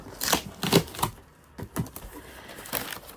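Crinkly packing paper rustles and crackles in short, uneven bursts while books are unboxed nearby, with quieter pauses between the handling sounds.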